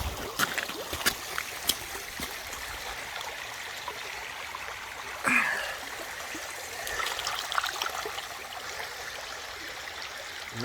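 Water trickles and streams steadily through a sluice during a gold cleanup in West Virginia, a continuous low-level flow with a few soft splashes, heard alone at a moderate distance.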